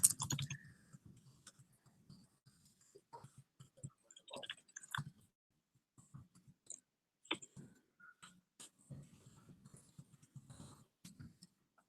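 Scattered keyboard clicks and taps from typing a chat message during a webinar, quiet and close, arriving in irregular bursts with pauses between, plus a faint cough or throat sound.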